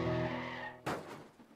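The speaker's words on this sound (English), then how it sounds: "Car accident." A sustained tire squeal with an engine hum cuts off in a sudden loud crunch that fades quickly, a car crash in the video game To The Moon.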